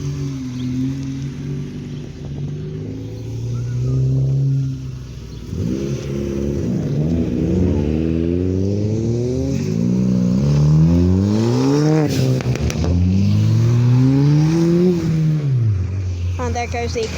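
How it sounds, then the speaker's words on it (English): Several cars, including a Honda Civic Type R and a tuned Nissan Micra, drive past at a car meet at a country inn. Their engines rise and fall loudly as they accelerate by, one after another, over about ten seconds, with people talking alongside. "Here comes the Civic Type R and the Nissan Micra, the tuned one of course."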